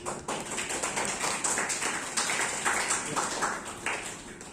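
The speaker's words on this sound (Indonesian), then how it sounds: "tepuk tangan" Students in a class applauding after a presentation, a quick, dense patter of many hand claps, fairly faint and steady throughout.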